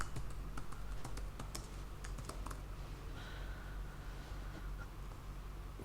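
Rapid typing on a computer keyboard while building an Excel login form, a dense run of close keystrokes over a low steady hum, thinning out in the second half.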